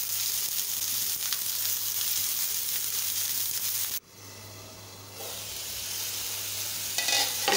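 Prawns wrapped in bottle gourd leaves frying in a wok over low heat, a steady close hiss and sizzle that drops briefly midway and then continues with soft crackles, no talking.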